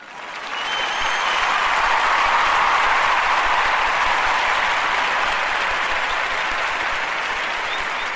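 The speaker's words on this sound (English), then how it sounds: "Let's give the Lord a clap offering on that note." A church congregation gives a clap offering, a broad roar of many hands that swells in quickly and then holds loud and sustained, fading only slightly toward the end.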